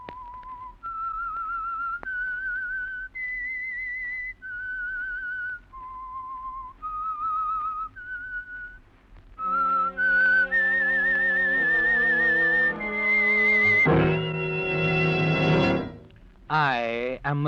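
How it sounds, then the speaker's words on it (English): A melodic whistled signal tune opens The Whistler radio show, a lone clear whistle stepping through sustained notes, then joined by a swelling orchestral passage with layered tones and a brief rising flourish at the end. "That whistle is your signal for the Signal Oil Program"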